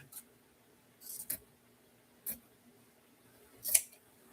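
Scissors snipping craft material for a fall pumpkin wreath, three or four quiet, crisp cuts spaced a second or so apart in a calm room.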